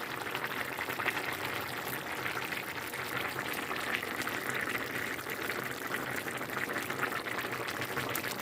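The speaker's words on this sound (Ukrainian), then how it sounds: "Так ось як гарно кипить." A pot of cabbage borscht dressing boils at a constant bubbling simmer, heard close up, steady and unbroken, without speech.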